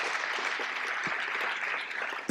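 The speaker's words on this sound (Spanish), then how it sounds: "Un aplauso a nuestras invitadas." An audience at a forum on the history of football in Mexico claps for its invited guests, a dense, even burst of applause lasting a couple of seconds.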